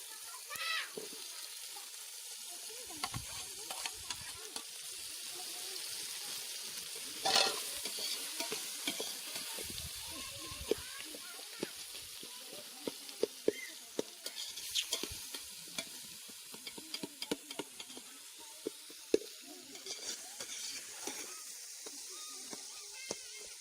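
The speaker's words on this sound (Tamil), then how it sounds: "தக்காளி வதங்கிடுச்சு இப்போ வெங்காயம் போட போகிறோம்" Tomatoes and onions fry in a pan for chicken curry, a continuous loud sizzle broken by frequent scraping stirs of a spoon over more than twenty seconds, with no talking.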